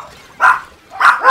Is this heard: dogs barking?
yes